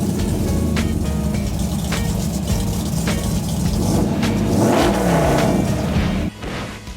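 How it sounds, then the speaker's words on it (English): A 1973 Dodge Challenger street rod at a car show in Topeka, Kansas, its engine rumbling loud and close with a rising rev in the middle before dropping off abruptly near the end. "Can we hear this bad boy?"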